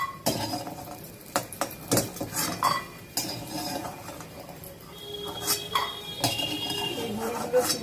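Fried lentil dumplings (bori) are lifted out of a pan with a metal utensil, making repeated clinks and scrapes against cookware over a faint sizzle, close and intermittent.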